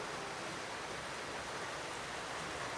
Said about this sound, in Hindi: 3-4 दिन से कंटिन्यू बारिश आ रहा है तीर्थहल्ली में।